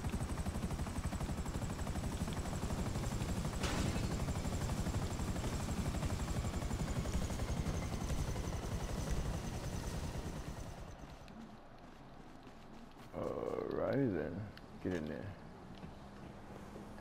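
Video game helicopters roar with a loud, continuous rotor thrum for most of the stretch, then fade out, followed by quieter bursts of other game sounds; someone talks over parts of it.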